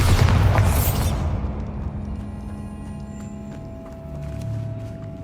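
A Bombarda blast spell detonates in a Harry Potter video game, a loud booming burst at the start that rolls into a long low rumble and fades under lingering cavern ambience.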